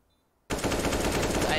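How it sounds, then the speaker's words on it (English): An AK-47 sprays rapid automatic fire in a Counter-Strike match on the Nuke map. The dense burst starts abruptly after a short silence and runs loud to the end. "AK sprays on Fugly, gets him"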